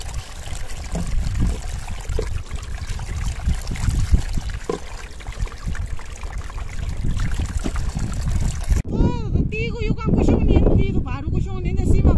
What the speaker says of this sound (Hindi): अब मैं यहाँ पे भरूँगी पानी